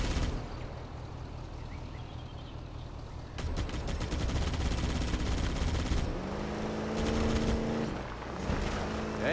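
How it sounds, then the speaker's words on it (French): Gunfire in Halo: Combat Evolved, with bursts of rapid shots starting partway through over a steady background of game noise, fairly loud and mid-distance. "On tire dessus."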